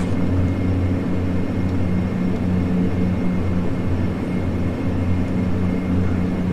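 Dash 8 Q400 turboprop propellers turning at 900 RPM in the FSX flight simulator, level at 220 knots. A steady, loud propeller drone and rumble with constant low tones holds evenly throughout, with no talk.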